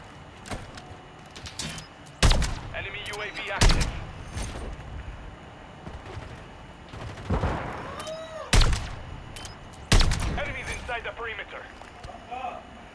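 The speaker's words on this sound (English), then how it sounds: "My bullets went through the guy." Loud, sharp gunshots ring out in Call of Duty MW3 multiplayer, a few heavy blasts spaced several seconds apart amid game sounds, with people talking throughout.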